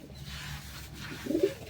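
Pigeons being fed grain give soft, low cooing calls, faint and close, with a brief brighter burst near the end over a quiet background.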